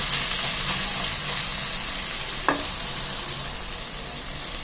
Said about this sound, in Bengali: চর্বিটা অনেকটাই গলে এসেছে। আর একটু ভাজা হলে তারপর এটা আমি আরো কিছু মশলা